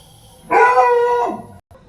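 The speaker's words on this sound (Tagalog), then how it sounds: "Ano bang asong yun?" A dog lets out a single loud, close howl of about a second that rises and then trails off, followed by a brief quiet gap.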